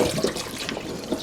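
Cold water from a tap pours over cooked paccheri pasta sitting in a colander that is too small, a short steady close splashing rush in a home kitchen.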